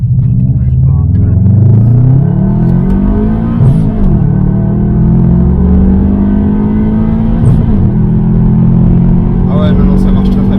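Engine of a Subaru WRX rising in pitch as the car accelerates from a rolling start, loud and close from inside the cabin, with a gear change partway through and someone talking over it.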